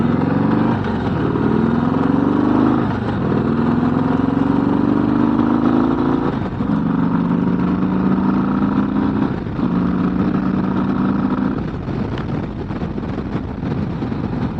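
Riding a 2025 Harley-Davidson Low Rider ST, with the engine note rising through several gear shifts under steady wind roar, close and continuous.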